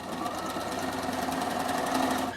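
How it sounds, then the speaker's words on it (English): Bernina sewing machine running a straight stitch along a folded bias strip, a steady rapid mechanical whir with fast regular needle clatter, close and continuous. "And you're simply just sewing all the way down."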